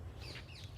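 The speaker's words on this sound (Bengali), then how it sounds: "পেছনে আমার পাখির আওয়াজও তোমরাও শুনতে পাচ্ছ" Birds call outdoors in the background, a couple of short faint cries over a low rumble of distant traffic.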